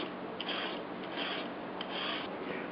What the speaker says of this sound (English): Use green papaya and start shaving.